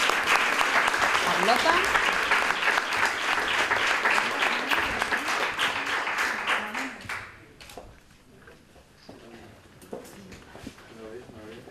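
Audience applauding at a Book Day award ceremony in San Roque, loud sustained clapping that fades after several seconds, with a voice speaking over it.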